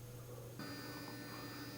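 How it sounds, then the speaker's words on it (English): A 3D printer runs steadily in a workshop, its even hum and faint whirring tones carrying on throughout, with a slight shift in pitch partway through, no voices present. "Pardon the noise, the printer's running."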